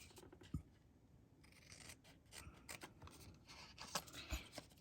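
Scissors snip through scraps of quilt fabric, a few close, quiet cuts and rustles of cloth on a table, with no talking.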